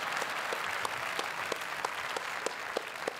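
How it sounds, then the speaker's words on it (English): A Sundance Film Festival awards show audience applauds a producer, a soft distant wash of clapping with a few sharper individual claps standing out. "I want to all of you to give a big clap for her"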